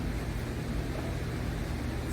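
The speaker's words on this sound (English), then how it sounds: "Sorry about the fan noise, guys." A fan runs with a constant broadband whoosh, loud and close, steady throughout, in hot and humid weather during an off-grid square drop camper build.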